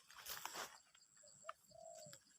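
A dove coos in quiet mountain country, giving a few soft, distant coos in a short phrase against faint background noise.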